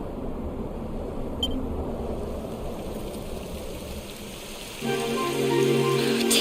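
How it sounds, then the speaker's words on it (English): Rain begins falling in the video game Dragon Quest XI, a steady hiss of rain over the ambient scene that thickens toward the end, with no talk over it. "It would have to go and start raining, wouldn't it?"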